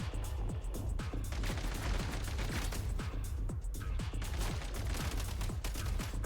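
Rapid gunfire aimed at enemies in a video game rings out as a dense, continuous barrage of sharp, loud shots with booming impacts that repeat irregularly throughout.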